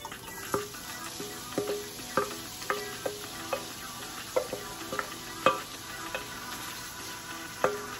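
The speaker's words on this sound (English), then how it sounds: "Fry down a little bit and I'm now going to add the salt fish over this" Salt fish fries and sizzles in a pan with seasoning while a utensil stirs and scrapes, making a steady hiss broken by sharp, irregular clicks and taps from the stirring, with no talk.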